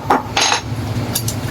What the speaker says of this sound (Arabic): بنجيب شاكوش زي كده، بنحاول ان احنا نكسره